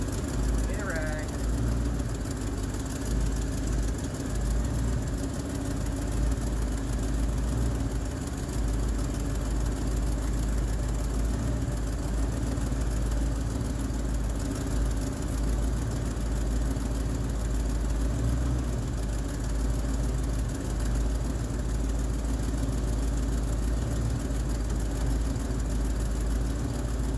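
A 1973 Chevrolet Cheyenne Super C10 pickup with a 454 engine idling steadily, a low continuous rumble that holds even and unbroken for the whole stretch, with a faint voice briefly audible early on.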